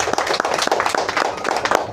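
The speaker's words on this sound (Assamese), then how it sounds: "একবাৰ নিজৰ কাৰণে হাত চাপৰি বজাই দিয়কচোন" A crowd clapping together at a shop opening in a steady burst of applause, many hands close by, lasting throughout.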